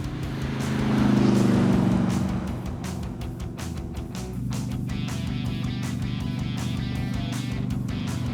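A Pro Street car with big, massive rear tires drives along on a road trip, its engine a steady, loud, close rumble from inside the cabin that swells briefly and then holds an even drone.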